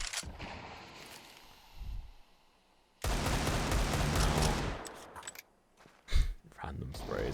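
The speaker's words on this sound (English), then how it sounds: "Random sprays from the Deagle on Oscar" Desert Eagle pistol fire in a Counter-Strike esports match, with bursts of gunfire and game action in dense blocks, loud and sharp, mixed under a commentator's speech.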